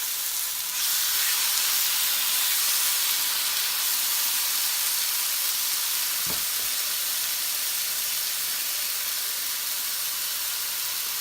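Chicken fajitas sizzling in a hot pan: a loud, steady hiss of frying that fills the whole stretch, with one brief low thump partway through.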